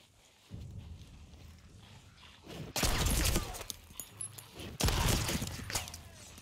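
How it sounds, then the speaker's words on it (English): Cannons firing in a Sea of Thieves naval battle, two heavy booming blasts a couple of seconds apart over a rumbling, noisy background, fairly close and loud. "I hear cannons."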